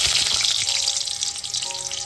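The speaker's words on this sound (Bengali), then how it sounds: "ভালো করে চালটা ধুয়ে নেব।" Rice being rinsed under a running tap, a steady bright splash and hiss of water for about two seconds, loud and close, no voices.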